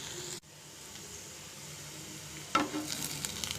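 Fenugreek leaves fry in a pan over a low flame with a steady, gentle hiss of sizzling oil, broken by stirring scrapes and crackles toward the end.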